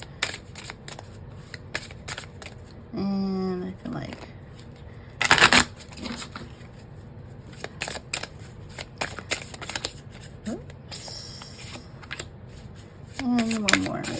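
Tarot cards being shuffled and broken by hand at close range during a psychic love reading, with riffling bursts and soft card clicks between stretches of someone talking.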